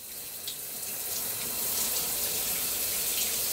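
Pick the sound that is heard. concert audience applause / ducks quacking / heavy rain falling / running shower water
running shower water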